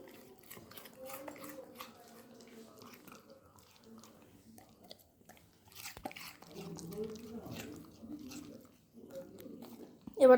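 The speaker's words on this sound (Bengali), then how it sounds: "এখন ফল খাচ্ছে" A Labrador dog named Lucy chewing pieces of fruit, wet irregular bites and crunches close up, with a person talking softly in between.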